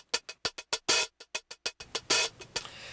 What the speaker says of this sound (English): There's the hi-hat.